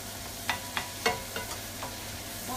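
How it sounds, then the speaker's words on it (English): Vegetables flash fry in a hot pan with a steady sizzle, broken by a handful of sharp scraping stirs spaced about every third of a second, close and moderately loud, with no talking. "you almost feel like you're flash frying them"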